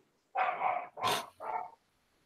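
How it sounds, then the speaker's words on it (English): A dog barks three times in quick succession, fairly close and clear, with silence around it. "That's Matt's dog barking"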